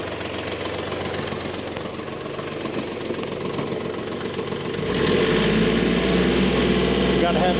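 A truck engine hauling a load of oak firewood runs at a steady loud drone, then its revs rise sharply about two-thirds through and hold at a heavier, louder pitch.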